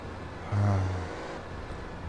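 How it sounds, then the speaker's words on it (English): A car's engine hums low and steady in GTA San Andreas, the district attorney's car, with a louder low drone swelling briefly near the start before settling back to a constant idle-like rumble. "The hum of the DA's car"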